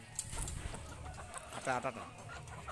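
Desi chickens clucking in short bursts, close by, with a brief rising call standing out midway over steady background noise.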